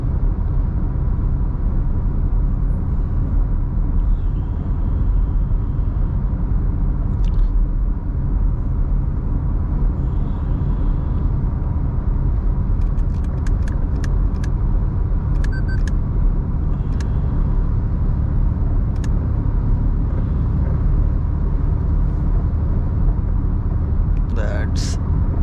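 Inside a Toyota Glanza AMT cruising on the highway at about 80 km/h and 2000 RPM, a steady low engine drone and road rumble fill the cabin, with faint clicks and someone speaking over it.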